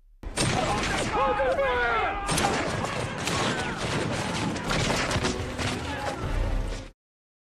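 Rifle volleys crack out during a samurai film battle scene, a dense, loud stretch of gunfire, crashes and clashing noise running for several seconds, with a narrator speaking over the chaos.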